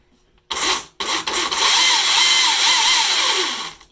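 Chainsaw with a freshly repaired, reseated drive link starting up after a brief false start, then running loud and close with a steady high whine that wavers as the throttle varies before cutting off.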